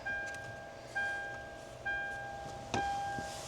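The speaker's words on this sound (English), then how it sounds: "taking the key out because we don't need that dinging sound" Key-in-ignition reminder chime in a Lexus GX470, a tonal ding repeating about every second, four strikes in all, each fading out, heard alone inside the vehicle.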